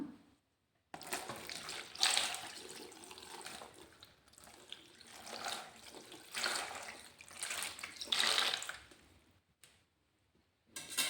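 Lukewarm water splashes into a tub for washing shoes in bursts, a gentle pouring and sloshing close by with short pauses between pours, and no voices.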